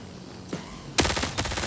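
A gun fires in the sci-fi shooter Marathon, first one shot and then a sharp, louder report followed by a short rattle of further shots.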